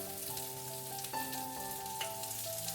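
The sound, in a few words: white peas and ginger crackling as they fry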